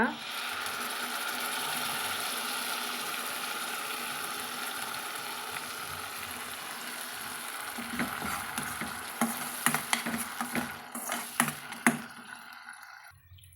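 Tomato paste sautéing with ginger-garlic paste in a pan for cauliflower gravy, a steady close sizzle and fry hiss with stirring scrapes that break into sharper clatters near the end before the sizzle drops away.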